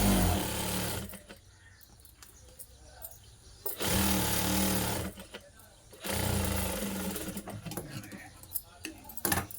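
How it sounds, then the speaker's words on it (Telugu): A sewing machine stitches the hem of a Punjabi dress top in two loud bursts of rapid, dense whirring, with quieter handling noise in between and some faint bird chirps. "ఇలా ఫోల్డ్ చేసిన తర్వాత కింది వైపు కూడా ఇంకొక కుట్ట అనేది వేసుకోవాలండి"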